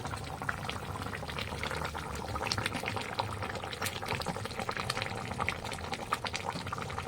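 Fried eggplant goes into a simmering hilsa curry, giving a faint, steady bubbling and sizzle with small crackles throughout.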